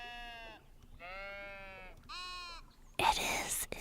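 Several sheep in the peaceful building game Tiny Glade bleat in turn, three drawn-out calls of differing pitch close by, followed by a brief burst of soft noise.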